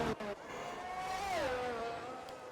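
F1 car in the F1 2022 racing game on a hot lap at Hungary, engine note climbing and then dropping as it shifts, one continuous tonal whine at moderate level with no talk over it.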